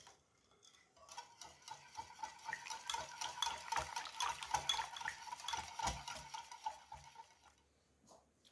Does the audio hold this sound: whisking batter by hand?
yes